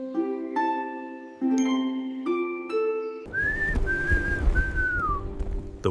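Whistled tones imitate the wind for a fairy-tale scene, a voice producing held, shifting pitches that rise and fall in a few sustained phrases, alone and fairly close.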